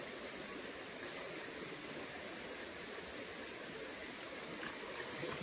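River water flowing steadily, a continuous faint rushing wash with no clear breaks or splashes standing out.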